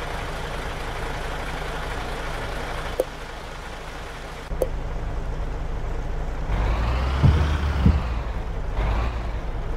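In a mobile truck simulator game, a truck engine rumbles steadily from the cockpit. Two sharp air-brake hisses come partway through, and the engine swells louder toward the end, with no voices.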